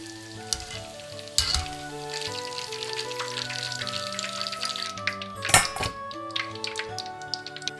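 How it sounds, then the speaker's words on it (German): Oil sizzles and bubbles steadily as strips of pork deep-fry, with occasional clinks and taps of a utensil against the pot. "Alle Fleischstreifen nochmal ins Öl geben. Ca. 1 Minute frittieren."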